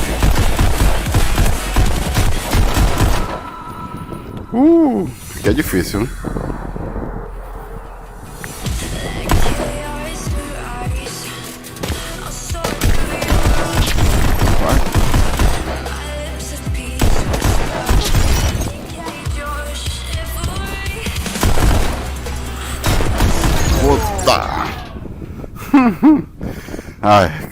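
Rapid gunfire and impacts in the VR shooting game Pistol Whip, repeated shots mixed with a loud game music track, with someone talking over it.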